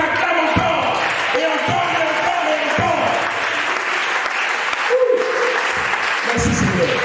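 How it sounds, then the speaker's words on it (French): A church congregation applauds loudly and continuously, with dense clapping and cheering under a preacher's voice and the occasional thud. "Il mérite que tu l'acclames encore, et encore, et encore, et encore"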